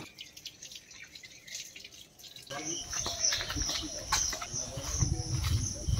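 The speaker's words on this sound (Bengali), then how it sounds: "তো ফল ধোয়া চলছে, ফল ধুয়ে নিয়ে আমরা বেরোবো।" Fruit being washed under a running tap: quiet at first, then a steady wash of splashing water fills the second half, close and moderately loud.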